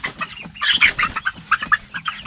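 A young four-week-old meat-breed rooster clucks close by, giving a quick, uneven run of short, sharp clucks and squawks over about two seconds.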